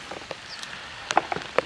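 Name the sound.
rain falling in a Siberian village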